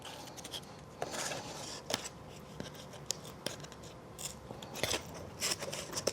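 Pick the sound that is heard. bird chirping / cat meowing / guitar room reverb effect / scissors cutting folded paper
scissors cutting folded paper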